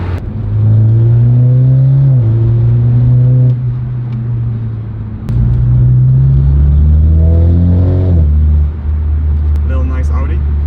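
A car fitted with an aftermarket valved exhaust bought from Alibaba, revving loudly and close in two long rising and falling pulls, with wind noise and brief voices toward the end.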